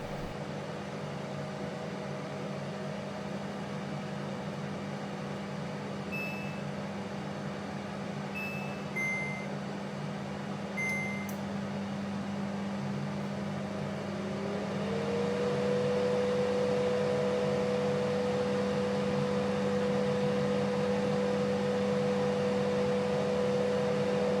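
Gourmia dual basket air fryer running, a steady fan whir with a low hum and a faint tonal whine, getting slightly louder and higher partway through, a few soft beeps early on, no talking.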